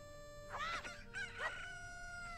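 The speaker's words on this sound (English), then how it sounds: "Why is the chicken back?" Chicken (cucco) in The Legend of Zelda: Ocarina of Time calling out in two short squawking bursts, clean game sound effect over a steady background music drone, no talking.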